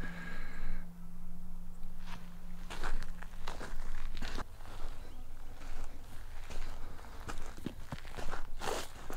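Footsteps crunch across the gravelly sand of a dry desert wash, a series of close, uneven steps in a very quiet setting, with a faint brief hum at the start.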